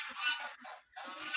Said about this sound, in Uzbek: G'ozlarning ovqatidagi oxiridagi ovqatlarini yeyishyapti.